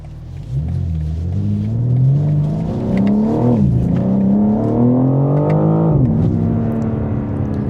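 A 2025 BMW M4 Competition xDrive accelerating hard, heard from inside the cabin: a loud, rising engine drone climbs steadily through two gears, with a brief dip at each shift, and no talking.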